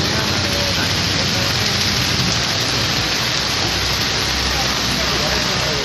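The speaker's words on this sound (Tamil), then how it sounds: "இடியுடன் கனமழை பெய்தது" Heavy rain pours down during a thunderstorm over Chennai suburbs, a loud dense unbroken hiss of downpour filling the whole stretch, with no distinct thunderclap standing out.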